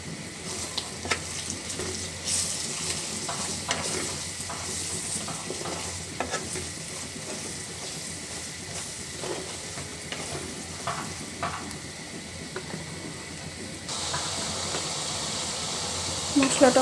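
Spices with coriander powder, turmeric and salt fry in a pan, a continuous sizzle broken by repeated scraping stirs and clinks of the spatula, close and fairly loud throughout.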